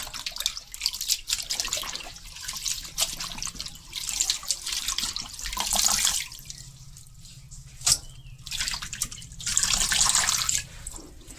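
Gandhabhadali leaves are rinsed in clean water for pakoras, with running tap water splashing and sloshing steadily in a sink, swelling and fading in waves with close drips and clatter.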